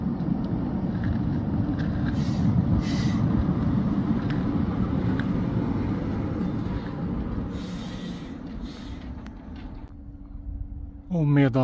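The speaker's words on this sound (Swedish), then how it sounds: "Men nu kommer tåget in mot stan." A Roslagsbanan commuter train pulls in toward the city, its steady loud rumble and rolling roar filling the scene, mixed with wind buffeting the microphone before easing down near the end.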